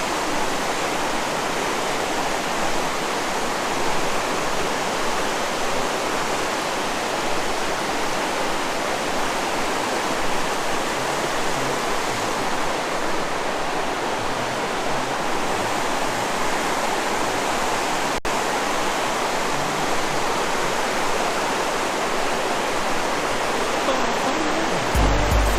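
A river flows steadily beside a campsite in Andorra, its broadband rush continuous and fairly loud from start to finish, with no other sounds standing out.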